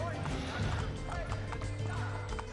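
Horse hooves clattering at a gallop in Assassin's Creed Brotherhood, a steady stream of clip-clop beats with a whinny, set against a busy game soundscape and music, with speech mixed in.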